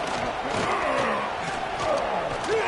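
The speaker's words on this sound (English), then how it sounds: "Here comes this home crowd as the defense tries to get off the field on 3rd down." A home stadium crowd in a college football video game roars steadily during a third-down defensive stand, a dense, sustained wall of cheering with scattered shouts rising above it.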